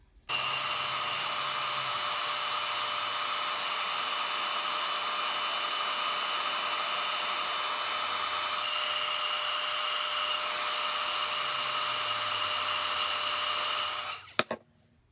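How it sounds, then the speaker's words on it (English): A heat tool blows steadily to dry the coating on a vintage paper tag, a loud, continuous whirring hiss that holds for about fourteen seconds before clicking off near the end. "And then with the heat tool"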